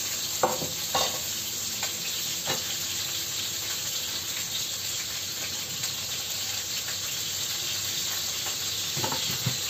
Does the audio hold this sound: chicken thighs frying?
yes